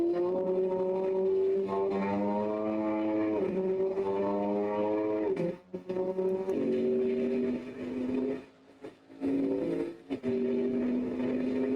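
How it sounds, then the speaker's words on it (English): Camaro race cars at a Tuesday night multiclass fun run make steady engine drones whose pitch climbs and falls through the gears, heard from inside one car, loud and continuous with brief drop-offs as the throttle is lifted. "There's quite a few Camaros in this race."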